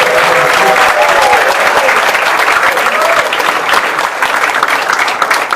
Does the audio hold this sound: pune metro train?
no